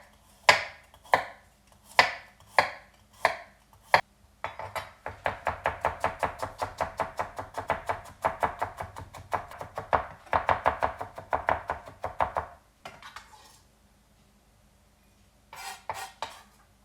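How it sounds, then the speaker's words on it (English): Knife mincing garlic on a cutting board: several slow separate chops, then a fast steady run of close, crisp knife taps against the board that stops briefly and ends with a few more quick taps. "first let's cut up our garlic, ginger, and green onions. So I'm going to start off with the garlic. And basically we're just going to mince these up."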